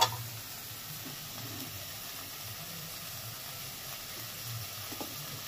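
Milk goes into a pan of spice paste that has been cooked down until the oil separates, for a paneer, cauliflower and pea dish, giving a soft, steady sizzle and hiss throughout, fairly quiet and close.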